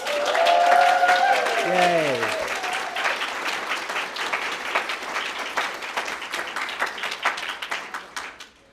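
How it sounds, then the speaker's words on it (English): Audience at an LGBTQ emerging writers prize ceremony applauds the nominees, loud sustained clapping with a cheer and voices at the start, thinning toward the end. "Big round of applause."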